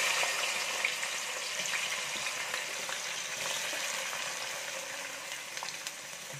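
Sliced onions, dropped into oil reused from frying chicken with a little water still in it, crackle and hiss in a steady, close, dense sizzle for the whole stretch, with no voices over it.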